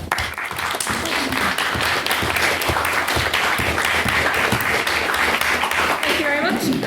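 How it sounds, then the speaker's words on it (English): An audience at a formal debate claps for a finishing speaker, a sustained burst of applause with a voice partly audible underneath toward the end. "Hold your applause"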